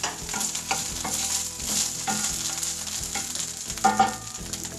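Pokeweed greens frying in a pan, a bright continuous sizzle with irregular stirring clinks and scrapes, close and fairly quiet, no voices.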